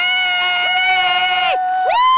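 Spectators cheer and shout for runners crossing the finish of the Baltimore 10 Miler road race, a loud, close burst of whooping voices with a sustained high call, a brief break, then another rising shout.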